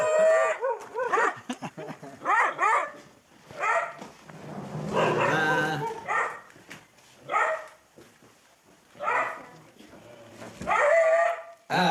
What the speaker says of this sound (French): après tu peux plus les arrêter les chiens